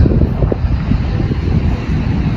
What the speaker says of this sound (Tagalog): Tapos lumalakas yung hangin.